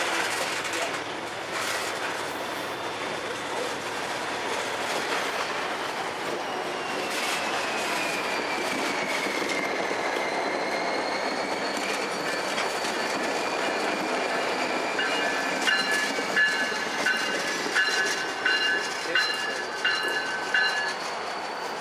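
A BNSF freight train of tank cars rolls past steadily along Puget Sound, wheels rumbling and clacking over the rails, with high metallic squeals rising near the end.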